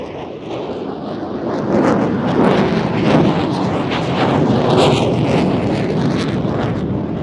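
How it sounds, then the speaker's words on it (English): An F-16 fighter jet pulling hard through a 360-degree turn during an air display, heard as a loud, continuous roaring rush of jet engine noise mixed with wind buffeting on the microphone. "the F-16 enters another 360, really pulling hard to complete this turn"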